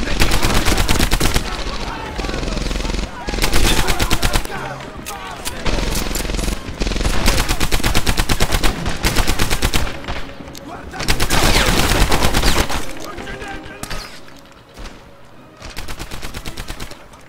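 Rapid automatic gunfire from a 64-round-magazine weapon in the World War II shooter Medal of Honor Airborne, loud sustained bursts separated by short pauses, with explosions and battle noise mixed in.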